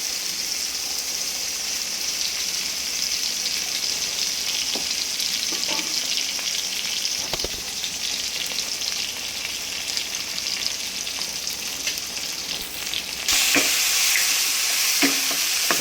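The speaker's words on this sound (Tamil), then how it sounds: "தக்காளி போட்டு நல்லா வணக்குங்க." Tomatoes sautéing in a pan for a vegetarian pulao, a continuous close sizzle and crackle with occasional stirring clicks, louder near the end, no talking.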